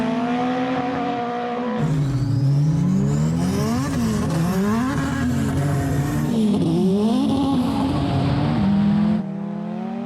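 A Honda and a Porsche drag race from a dig over 1,000 feet, engines roaring loud and close with rising and falling revs as the cars shift gears, continuous for about seven seconds with no talk.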